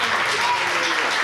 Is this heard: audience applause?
yes